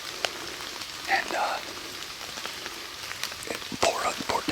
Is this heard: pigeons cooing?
no